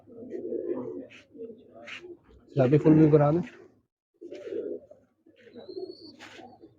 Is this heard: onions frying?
no